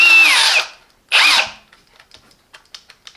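An 18V Hychika cordless brushless hammer drill runs in hammer mode. There are two loud, whirring bursts close by, the second shorter, followed by faint clicks.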